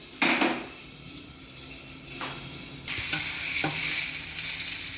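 Gobi (cauliflower) frying and being stirred in a pan, metal utensil clanks and scrapes against the pan over a sizzle that swells louder and steadier partway through.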